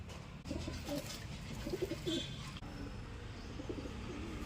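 Pigeons coo in a loft, a male driving the female toward the nest, with a few soft rolling coos close by over a low background rumble.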